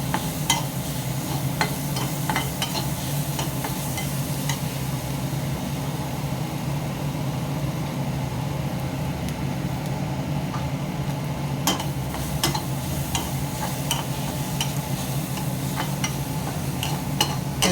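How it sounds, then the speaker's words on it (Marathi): Green beans stir-fried in a pan with a steady, continuous sizzle and occasional scraping clicks of a utensil, close and moderately quiet with no talking. "हे आता मी चांगलं परतून घेतो ह्याच्यामध्ये."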